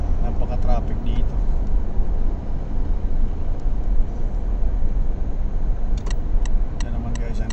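Dense, steady roar of heavy traffic on King Khalid Road in Riyadh, a continuous low rumble of many vehicles heard from inside a moving car, with a few faint clicks near the end.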